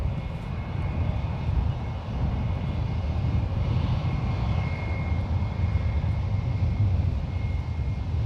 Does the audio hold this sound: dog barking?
no